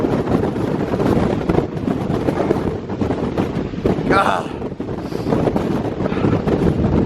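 Strong wind roars steadily and loudly across the microphone at a mountain lookout near Horns Pond on the Appalachian Trail, a constant buffeting rush with a brief whoop of a voice partway through.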